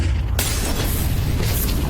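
A grenade explodes in the video game Counter-Strike, giving a loud, dense boom that fills two seconds with heavy rumbling noise and a sudden sharp onset partway through.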